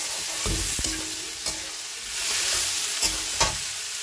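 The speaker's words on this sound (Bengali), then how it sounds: "এই যে আমি পেঁয়াজটা ভাজা ভাজা করে নিচ্ছি, দিয়ে দিয়েছি একটু নুন।" Chopped onions with salt fry in a pan over dried chilli tempering, a steady close sizzle broken by several sharp scrapes and clacks of a spatula stirring.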